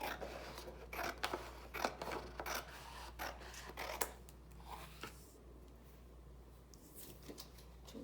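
Scissors snip through craft paper for a Christmas folio album in a series of close, crisp cuts, each short rasp sounding separately before the cutting stops and quiet room tone remains.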